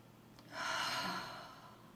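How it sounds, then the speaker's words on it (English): A single deep inhale, breathing in slowly through the nose or mouth: a soft, airy rush that swells, holds for about a second and fades, close and alone with no talk. "So big inhale."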